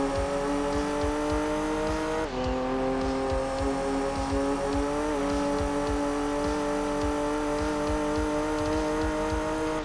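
Lotus race car in Gran Turismo 2 on the PlayStation, its engine droning at a steady high pitch throughout, the tone dipping and stepping between gears, loud and continuous with no talk.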